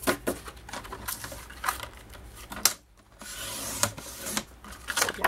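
A craft blade slices through paper strips, producing repeated close scraping and rasping strokes in short bursts with a brief pause midway; no voices.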